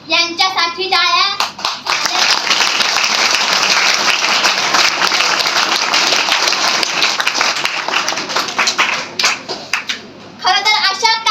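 Audience at a Savitribai Phule anniversary program claps for the foundation's founder: a full, steady round of many hands that swells after a brief spoken moment, holds for several seconds, then tapers as speech resumes at the end.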